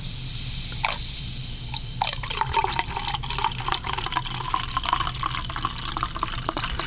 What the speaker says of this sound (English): That's the sound of a carbonated hard apple cider.